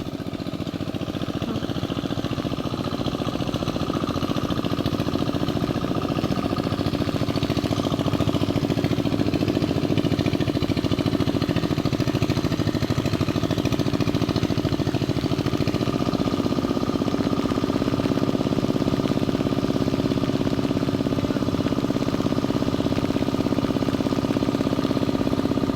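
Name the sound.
hand tractor engine running in rice field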